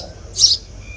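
A single short, high chirp from a sparrow rises briefly over a quiet background.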